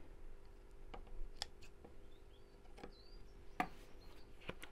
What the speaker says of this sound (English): Just got a few loose threads there I need to cut away.